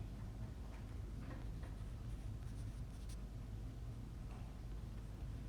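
Marker or chalk strokes on a classroom board during a chemistry lecture on gas equilibrium, a faint, steady scratching in short bursts over a low room hum, with no talking.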